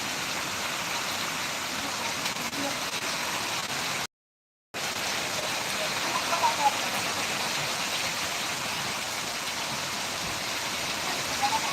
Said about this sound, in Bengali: বৈশাখ মাসের বৃষ্টি এটা কাল বৈশাখী ঝড় হওয়ার সম্ভাবনা